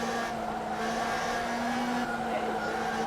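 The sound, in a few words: Radical SR3 race car braking hard, tires squealing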